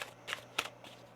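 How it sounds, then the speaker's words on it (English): Tarot cards shuffled in quick riffling bursts, two crisp flurries with quieter rustles between, close and fairly soft, no voices. "One more shuffle."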